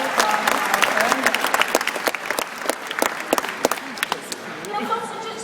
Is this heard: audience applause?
yes